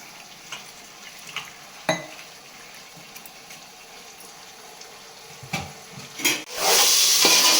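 Chicken pieces with ginger-garlic, mint and coriander fry in a pan for seeraga samba biryani, soft sizzling broken by sharp stirring clatters, then a loud burst of hissing near the end, close and without voices.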